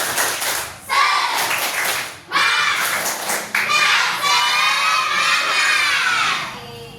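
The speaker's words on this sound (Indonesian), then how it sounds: "Tepuk semangat" Schoolchildren in an Indonesian sixth-grade class doing a spirit clap, bursts of rhythmic group clapping mixed with loud children's chanting and shouting voices, close and energetic, with brief pauses between phrases.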